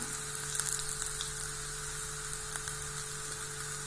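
Batter for steamed rice-flour dumplings lands in a hot pan and sizzles steadily, a soft continuous frying hiss with faint stirring scrapes near the start, no voices.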